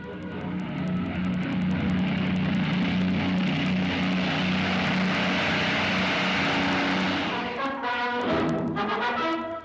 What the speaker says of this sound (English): The finest bomber in the world, built in British factories by British labor. That's the Avro Lancaster, the sky giant of the RAF.